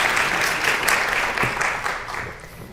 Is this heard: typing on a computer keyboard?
no